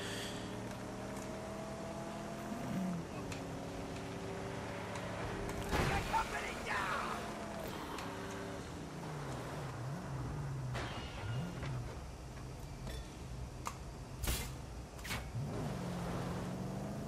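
A car driven along a dusty track in the game Mad Max, its engine droning low with pitch rising and falling as it revs and shifts, bumps and knocks along the way, with someone talking over it.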